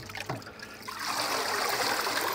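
Water from washing Romanesco broccoli pours in a steady, continuous stream after a brief clatter at the start, loud and close with no talk.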